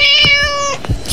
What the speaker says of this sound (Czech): Slyš tu kočku.